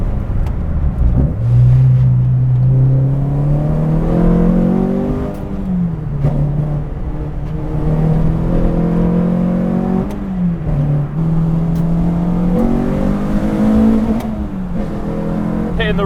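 A Renault Clio 172 engine revs repeatedly to the red line, pitch climbing high through the gears with throaty roar, close and continuous over road noise.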